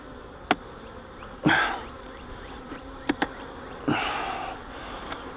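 Honey bees buzzing as they are shaken down from two honey supers into a hive box, a steady near hum with two sharp knocks and thumps and brief swells of louder buzzing as bees drop.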